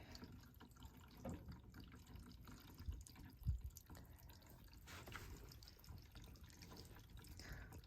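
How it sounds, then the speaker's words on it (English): Hose water flowing through an HVAC condensate drainage pipe during a flush to clear a clog, a steady low watery rush with faint trickles and a few soft knocks, continuous throughout and fairly quiet. "you can hear the water flowing through"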